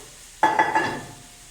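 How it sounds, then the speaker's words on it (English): Salsa and broth hit a hot Dutch oven with a sudden loud sizzle, then two more splashing surges as more liquid is poured in, before the hiss fades over about a second. "we take our salsa and broth and dump it in to the Dutch oven"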